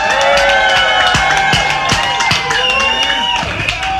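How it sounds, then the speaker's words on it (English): A crowd roars for DEADKINGS, the final act of Westfest 2018, playing outdoors in bad weather. Sustained, loud cheering and whistling run throughout, with scattered sharp claps and shouts. "an enormous, earth-shattering, Hail Weston raising round of applause for the final act of Westfest 2018"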